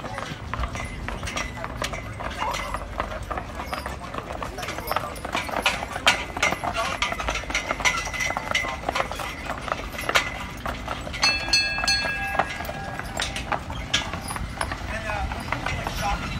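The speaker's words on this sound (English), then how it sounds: "You can get yourself a little horse ride." Horse hooves clip-clopping at a steady, brisk rhythm during a horse ride through the Danish-style town of Solvang, California, moderately close amid street ambience, with people talking throughout.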